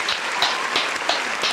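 Applause for a basketball executive on a Heat vs Celtics reaction show, a steady dense patter of clapping filling the short moment with no talk over it.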